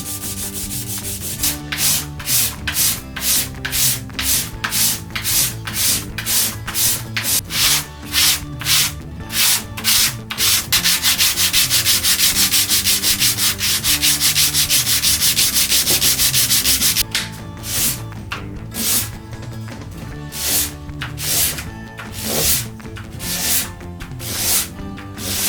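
Sandpaper rubs briskly across purpleheart wood necklace blanks in loud, rhythmic back-and-forth strokes. A stretch of continuous rasping sits in the middle, and the steady strokes pick up again near the end.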